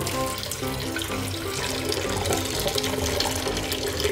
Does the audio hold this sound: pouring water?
yes